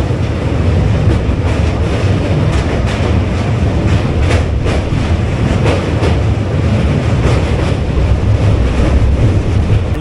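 The 13187 Maa Tara Express runs steadily on rails, heard from on board as a loud continuous rumble with rhythmic clickety-clack of wheels over rail joints.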